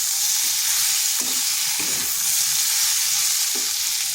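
Potatoes and mushrooms fry in a pan with a loud, continuous close-up sizzle, broken by a few soft stirring scrapes.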